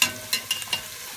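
Onions frying in a pan for chicken yassa, stirred with a few quick scraping strokes over a faint sizzle, close and fairly quiet.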